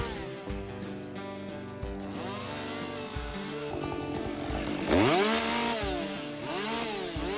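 A chainsaw limbs branches while felling trees in a dense stand, its engine droning close and loud, then revving and bogging in repeated swells as it cuts through the limbs.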